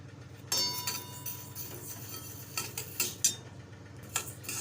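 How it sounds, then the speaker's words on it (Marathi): Moong dal dry-roasting in a pan without oil gives intermittent clinks and scrapes as a spatula stirs it, in irregular knocks over a faint steady background. "आता एक मिनिटभर डाळ भाजून घेऊया आपण"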